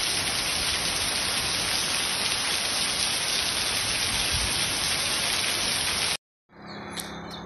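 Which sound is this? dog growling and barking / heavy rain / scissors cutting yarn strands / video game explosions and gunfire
heavy rain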